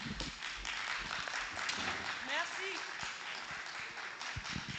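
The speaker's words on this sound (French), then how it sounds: "Des applaudissements pour Melissa Chouja pour son hommage au Fonenlo." An audience claps after a child's tribute poem at a children's poetry event, soft sustained applause heard from a distance, with a brief voice sliding through the middle and occasional sharper claps near the end.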